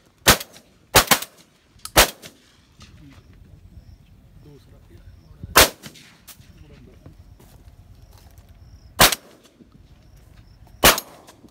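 Shotgun blasts go off during a pigeon hunt near the AJK border in Pakistan. There are six sharp reports: a quick double early on, then isolated shots spread across the stretch, with faint voices and birds in the gaps between them.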